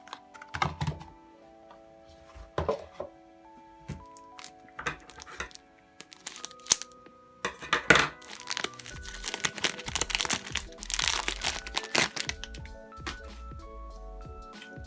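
Plastic wrap crinkles and crackles in close, sharp bursts while a puzzle cube is unboxed, with scattered crisp snaps and rustles that grow busier and denser in the second half.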